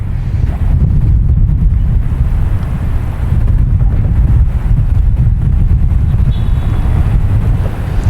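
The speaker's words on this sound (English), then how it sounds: "So there's a crosswind here, gusts 25 miles an hour." Steady loud wind buffeting the microphone, a low rumbling roar that swells slightly in gusts throughout, from a 25 mph gusting crosswind at Boston Logan Airport.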